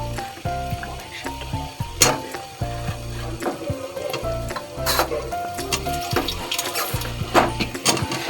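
Potatoes frying in spiced masala for a mutton curry, a close sizzle under repeated rhythmic scraping and knocking of a stirring spoon against the pan.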